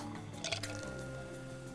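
Medium water with ice is poured in the video game Cook, Serve, Delicious, giving a brief liquid fill with soft drips and a quick squishy clink over quiet background music.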